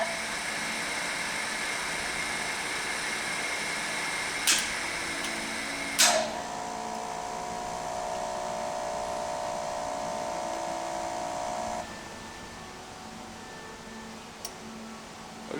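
Electric motor running on a Horstmann DC injection brake test setup, a steady tonal hum and whine with a couple of sharp clicks from contactors, the tone shifting partway through, no talk.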